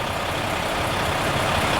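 A truck engine at a site where many trucks come to collect gluten runs with a steady, dense rumble and broadband roar, close and constant, with no talking.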